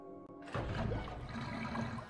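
Water drains away in the Zork Nemesis video game with a sudden gurgling rush like a flush, close and full, continuing steadily for about a second and a half after a short quiet hum.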